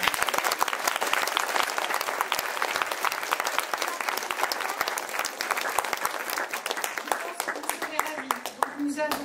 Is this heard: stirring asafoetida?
no